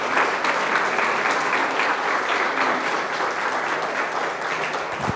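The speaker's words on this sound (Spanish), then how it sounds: "¿Por qué no das un fuerte aplauso a Dios?" A church congregation gives God a loud, sustained round of applause, a dense wash of many hands clapping evenly for the whole stretch with no voice standing out.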